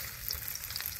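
Onion, garlic and green chili fry in hot oil, a brief, even, fairly quiet sizzling hiss with no voices.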